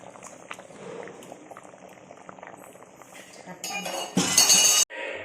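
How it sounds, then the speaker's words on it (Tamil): Sambar with vegetables bubbles in a pot, a soft simmering texture under faint clinks of utensils, followed by a louder sizzling burst near the end. "இப்போ சாம்பார் நல்லா கொதித்து காயெல்லாம் வந்துருச்சு."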